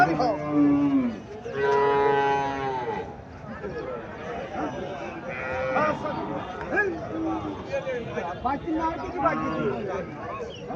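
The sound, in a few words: cow mooing, Indian Haryana breed dairy cow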